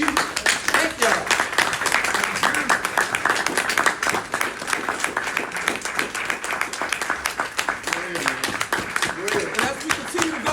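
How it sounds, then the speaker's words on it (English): Audience clapping for community elders at a speaking event on the war against Black men, dense applause carrying on steadily for about ten seconds, with voices talking over it. "Can we clap it up for our elders?"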